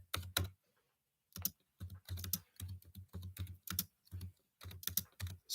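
Bursts of typing on a computer keyboard, close and fairly loud, arriving in uneven clusters of rapid keystrokes separated by short pauses, with no talking.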